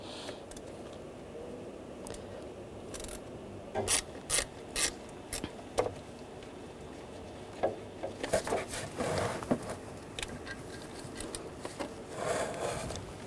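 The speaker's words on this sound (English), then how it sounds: "use a T30 socket. We wanna take those two top bolts out." T30 socket on a ratchet turning out the top bolts near the throttle body of a 2009-2017 Volkswagen Tiguan 2.0L, giving scattered bursts of quick ratchet clicks with quiet gaps between them.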